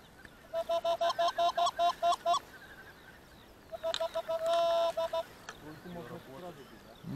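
Geese flying in low during a spring goose hunt, calling in two bursts of loud, rapid, repeated honks with a pause between, while people talk quietly nearby.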